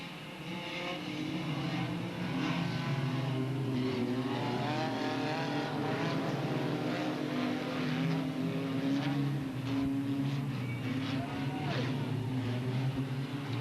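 Stock cars roaring around the oval at Delta Speedway during a heat race, a dense, continuous engine drone with rising and falling pitch as cars pass, heard from a distance in the grandstand.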